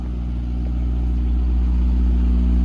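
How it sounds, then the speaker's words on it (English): A delivery truck engine idles in the snow with a deep, steady rumble and a few low tonal hums, close and loud, rising slightly in level over a few seconds with no voices. "Still got the truck running."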